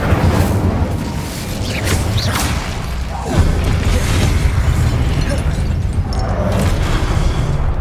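An Incendio fire spell erupts in Hogwarts Legacy combat: a loud, sustained roaring blast with crackling bursts keeps up through the whole stretch, dense and booming, with a heavier surge partway through.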